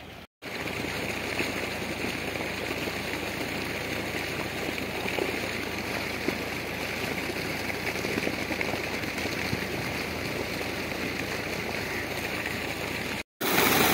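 Water gushes steadily from a running tubewell and a canal channel in a Pakistani village, a continuous rushing wash with no talk, cut by two brief dropouts.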